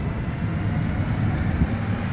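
Montréal Métro MR73 train running on an overnight Nuit Blanche service, a steady loud low rumble with rolling rail noise, continuous and close, no voices.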